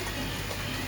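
Kalsira pigeons cooing in a loft, a soft, continuous murmur of low coos at moderate distance, with no talking.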